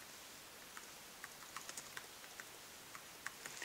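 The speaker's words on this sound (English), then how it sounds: "I'm just typing it into Google" Typing on a computer keyboard: quiet, irregular clicking keystrokes scattered across a few seconds, soft and close, with no talk.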